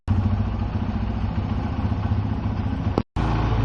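A motorcycle engine idles just after starting, a close, loud, steady chugging rumble with a brief dropout near the end before it resumes.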